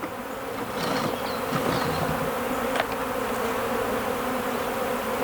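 Agitated honey bees swarm around an open beehive during a varroa inspection, drawn by sugar syrup fed to nearby hives, producing a dense, loud, continuous buzzing close by, with no talking.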